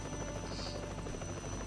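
A helicopter in the Trauma Team video game flies with a steady, dense rotor drone and whine, continuous and close throughout with no voices.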